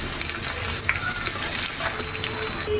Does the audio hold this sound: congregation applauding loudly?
no